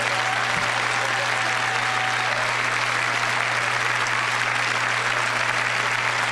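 Continuous applause from a studio audience at a comedy show, dense and even for the whole stretch, with a steady low hum underneath.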